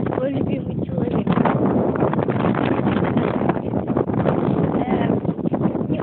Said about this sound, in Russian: Сейчас ветер очень сильно дует